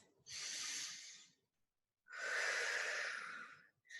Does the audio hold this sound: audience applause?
no